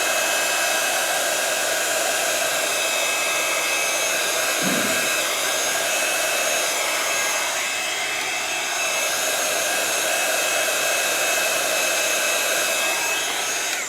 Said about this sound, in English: Go in with the heat gun and melt it down.